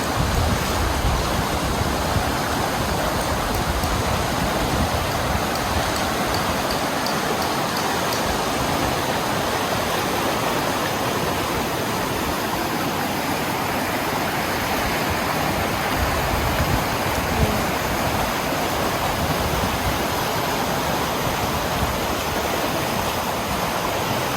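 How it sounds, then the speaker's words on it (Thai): Natural river water flows down from a mountain beside a campsite, a loud, steady rush that fills the whole span with no breaks. "อันนี้คือน้ำธรรมชาตินะคะ ไหลมาจากภูเขาลูกนู้น"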